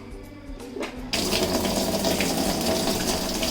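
Water gushing out of a washing machine drain that had been blocked, starting abruptly after a quieter second and then running as a loud, steady, close rush to the end.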